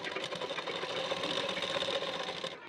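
Sewing machine running continuously as it stitches fabric for a latkan tassel, a fast, even mechanical whirr with dense rhythmic needle chatter, close and alone without speech.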